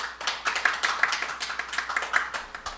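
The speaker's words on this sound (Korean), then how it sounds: "큰 박수로 환영해 주십시오" Applause greets a speaker at an online education forum: a small group claps steadily and fairly close for a few seconds, with no talking over it.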